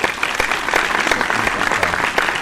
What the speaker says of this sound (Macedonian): Еден голем аплауз за Македонија.